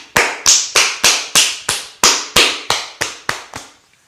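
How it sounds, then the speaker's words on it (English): Eleven sharp hand claps in a steady, even rhythm during a yoga class, close and loud, each with a brief room decay, then silence. "once again, a little bit of a clap"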